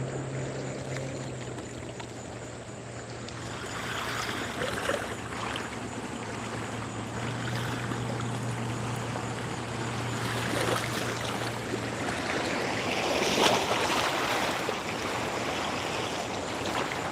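A motorboat runs on the Cumberland River during a catfishing trip. A steady engine drone sits under a constant rush of water for the whole stretch, with no one talking.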